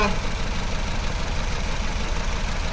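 A car engine idles steadily while its ignition coils are checked for a circuit fault on cylinder number 1, giving a dense, constant rumble with no breaks or speech.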